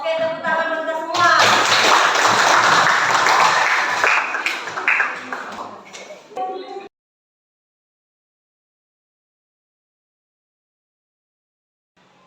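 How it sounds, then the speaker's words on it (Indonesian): A classroom of students at a vocational high school breaks into several seconds of dense, close applause, which tapers off and gives way to silence. "Oke, tepuk tangan untuk kita semua."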